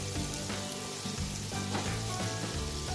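Steamed vegetable momos filled with carrot and cabbage sizzle and fry steadily in a hot pan, a dense continuous crackle close up with faint stirring and no talking.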